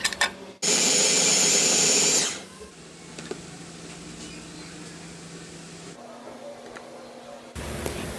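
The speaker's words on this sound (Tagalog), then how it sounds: "Once okay na, ay pwede na natin itong i-blend." A kitchen blender whirs at high, steady speed for a short burst, blending garlic and chili for homemade hot sauce, then stops, leaving quieter room noise.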